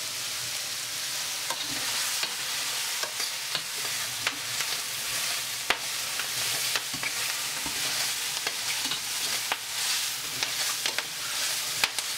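Mushrooms and fresh thyme fry in a pan for chicken Marsala, giving a steady close sizzle with frequent scraping stirs and clicks of a utensil against the pan throughout, no talking.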